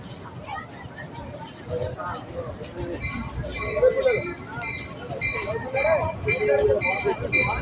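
The Allama Iqbal Express, running between Sialkot and Karachi, passes at Narang station, a rumbling rail roar with clattering wheels and squealing tones that grows louder, while people talk nearby.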